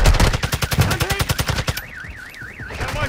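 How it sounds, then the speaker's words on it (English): Gunfire in the video game Call of Duty Warzone, a fast rhythmic automatic burst of loud close shots lasting over a second, followed by a wavering alarm-like warbling tone. "You are taking effective fire"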